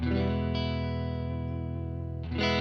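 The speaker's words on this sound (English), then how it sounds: "that's just guitar going straight into the amp with a little bit of reverb" A clean electric guitar chord, played straight into the amp, rings out sustained with a light reverb tail, followed by a brief new strum near the end.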